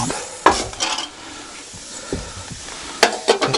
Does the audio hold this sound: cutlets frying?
yes